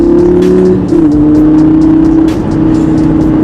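A Lamborghini Gallardo engine roars steadily at high revs, with brief dips as it shifts up through gears, close and continuous.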